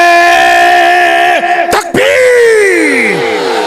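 A large gathering at a religious speech chanting back in response to a shouted slogan, loud sustained massed voices holding long tones that slide downward and fade, with one sharp break in the middle, close and echoing.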